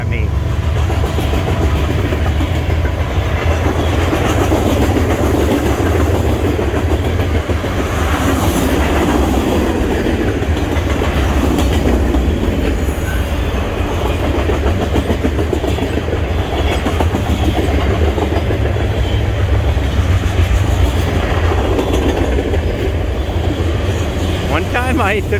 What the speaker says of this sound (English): And there's a train coming, choo choo.